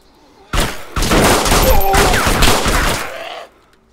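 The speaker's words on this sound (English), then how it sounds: "Gunshots." Loud bursts of gunfire from the DayZ video game, a dense fusillade of shots that starts suddenly and runs for about three seconds before cutting off, with a voice speaking briefly over it.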